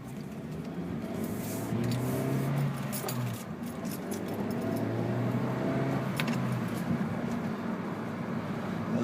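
A 2012 Honda Fit Sport with manual transmission driving along, giving a steady engine drone and road rumble with pitch shifts as it moves through gears, plus faint rattles inside the cabin.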